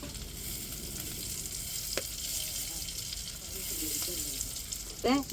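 Steady crackling sizzle of spices and asafoetida frying in hot oil for a pepper rasam tempering, continuous and close, with a few brief clinks and stirring sounds.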